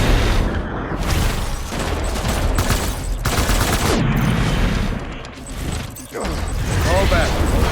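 Sustained automatic gunfire and booming shots from a combat scene in the video game Death Stranding, loud and continuous with brief lulls, mixed with shouted voices.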